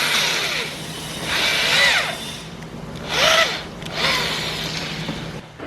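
A power drill whirs in three close, loud bursts, each rising and winding down as it bores holes while fitting a tube rear on a Nissan 350Z.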